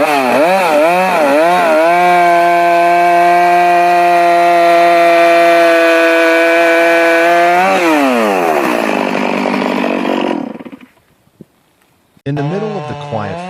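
Stihl MS-460 chainsaw cutting deep into a huge dry, cracked tree trunk in a forest: loud close engine revving up and down, a long sustained high-pitched roar under load, then a brief drop to near silence before it revs again.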